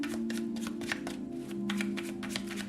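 Tarot cards being shuffled by hand, a steady run of quick riffling flicks and soft slaps, close and fairly quiet over a constant low hum.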